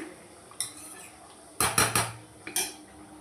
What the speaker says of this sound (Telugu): వేసుకొని ఈ విధంగా బాగా కలుపుకొని